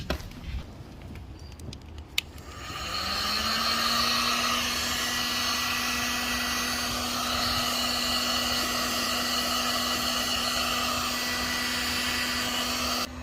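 A heat gun or hair dryer warms a car side mirror cap for an Infiniti, starting with faint handling noises, then switching on into a loud, steady whirring blow with a constant motor whine that runs to the end.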